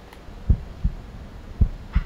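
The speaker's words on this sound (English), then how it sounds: "Oh, shit, you can hear the heartbeat?" A heartbeat sound effect from the hunting game Hunting Simulator plays as four deep, muffled thumps in a slow lub-dub rhythm over a quiet background hiss.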